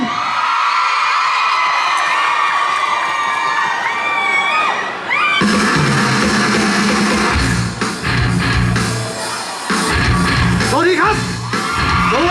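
Shopping-mall audience at Central Plaza Rayong welcoming a singer with loud, sustained cheering, shrieks and whoops from a dense crowd, rising in bursts and carrying on without a break.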